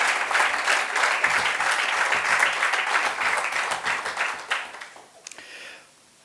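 A Rotary Club installation audience gives a full round of applause, dense clapping that holds steady for several seconds before thinning to scattered claps and fading out.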